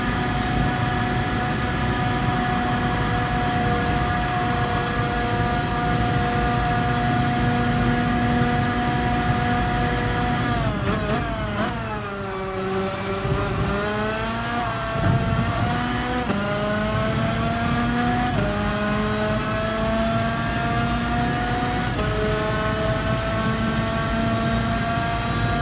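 A Tomahawk race car in Gran Turismo Sport howls steadily while sliding through a corner, engine tone holding high, dipping briefly as revs drop mid-slide, then climbing back, loud and continuous with no talk.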